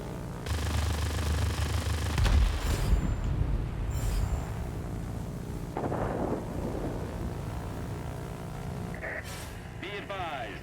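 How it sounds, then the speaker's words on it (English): Rolling thunder from an approaching line of thunderstorms in the flight game WOPS, loud and sustained with rumbling bursts, heard under a radio-style voice and game sound effects. "A line of thunderstorms is approaching."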